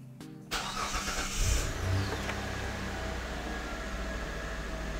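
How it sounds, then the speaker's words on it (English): A car engine cranks and catches after a brief whir, then settles into a steady idle that hums on close by with broadband noise; no one speaks. "So I'm just gonna start the car up."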